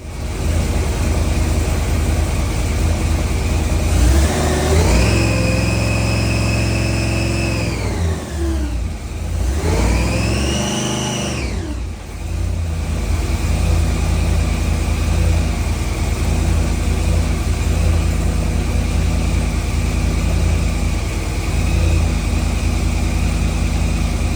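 A supercharged big-block Chevy engine roars loudly and continuously on a dyno, revving up in two long sweeping pulls that rise and fall, then settles into a heavy steady drone.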